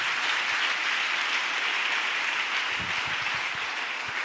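A church congregation applauding to acclaim the Lord during a sermon, dense sustained clapping from many hands filling the room evenly, with a few sharper nearby claps toward the end and no voices.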